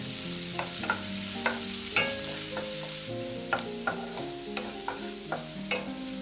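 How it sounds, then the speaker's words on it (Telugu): Chopped garlic and a tablespoon of finely cut ginger fry in hot oil for an onion curry, with a steady close sizzle and repeated sharp clinks of a spoon stirring against the pan. "అల్లం కూడా చిన్న ముక్కలుగా కట్ చేసుకుని ఒక టేబుల్ స్పూన్ వేసుకుని ఫ్రై చేసుకోవాలండి"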